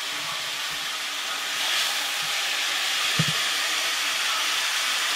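Peppers tossed into a hot pan with butter give a steady, broad sizzling hiss that swells slightly as they hit the fat, with a faint clink of utensils partway through and no talking.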